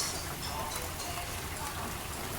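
Steady rain falling, a dense even patter of drops on a surface, continuous and fairly close with no voices.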